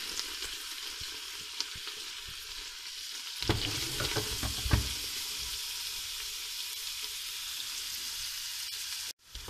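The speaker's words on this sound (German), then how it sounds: "Lassen das leicht anschwitzen." Vegetables sweating in butter in a pan while making homemade red cabbage, with a steady soft sizzle, louder stirring scrapes and clatter partway through, then a brief drop near the end.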